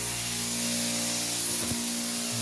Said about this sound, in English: the machine that I use to spray back bigger stuff. It's a Graco.